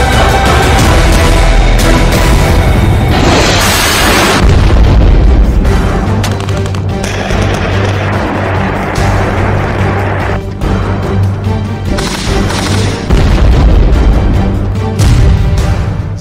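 Bomb blasts from war footage of Russian strikes in Ukraine, with heavy booming bursts and rumbling, several loud impacts spread across a dense, noisy mix.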